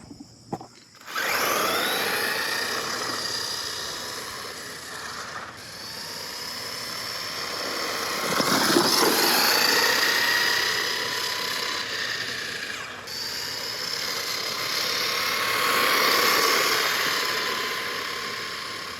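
A WLToys 12423 RC short course truck driving on a street on a 2S battery, its electric motor whining and rising and falling in pitch across several runs, with gear whir and brief lulls between passes.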